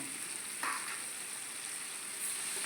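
Whole spices such as coriander, cumin, cinnamon sticks and cloves with turmeric frying in oil in a pan for a fish curry, giving a steady close hiss and sizzle with a few brief crackles.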